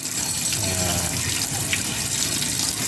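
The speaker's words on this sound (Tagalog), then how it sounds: "kailangan lang nating hugasan ng mabuti" Pansit-pansitan herb leaves are rinsed under a running tap, giving a steady, close, full rush of water with small splashing variations throughout.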